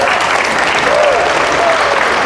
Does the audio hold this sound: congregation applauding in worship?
yes